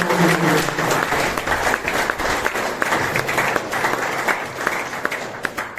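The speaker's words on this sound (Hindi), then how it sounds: "जोरदार तालियां बजाएं।" An audience applauds vigorously at an Independence Day celebration in a rehabilitation centre, a thick, sustained burst of many hands clapping close by, with scattered voices mixed in.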